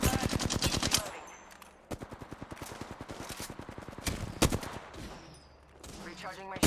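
Rapid video game gunfire in several sustained automatic bursts with sharp single shots between them, loud and close, with brief speech mixed in.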